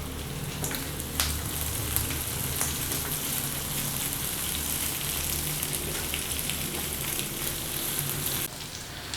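Onion and capsicum cubes frying in a pan, a steady close sizzle and crackle with occasional stirring clicks, moderately quiet and continuous throughout.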